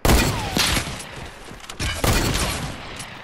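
Semi-automatic rifle gunfire in a video game, several sharp loud shots in irregular bursts with booming impacts, close and dense, no talk over it.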